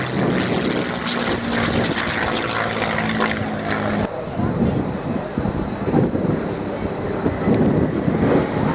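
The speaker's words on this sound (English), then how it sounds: "Final pass for this P-51D as brake to land." A P-51D Mustang propeller aircraft makes a final low pass before landing at an air show, its engine droning loud and steady throughout, with an announcer talking over the roar.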